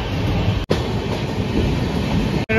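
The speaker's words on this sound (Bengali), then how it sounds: "তো আমাদের ট্রেন এখন ক্রস করছে কিন্তু দমদম জংশন" Sealdah–Puri Duronto Express 22201 runs fast on the rails past Dum Dum Junction, a loud close continuous rumble and rattle of wheels, broken by two sharp momentary dropouts.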